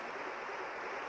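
Rushing water from a waterfall in the video game Resident Evil 2, a steady, even hiss of moderate loudness heard alone for a brief moment.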